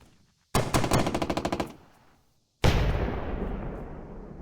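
Gunfire in a turn-based WWII game, Burden of Command Three: a loud rapid burst of about a dozen machine-gun shots, a second of silence, then a single heavy blast that booms and slowly decays.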